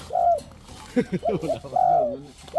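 A tame, seasoned spotted dove of the ground-line breed coos nearby in a short series of rolling, hollow notes, loud and clear with no talk.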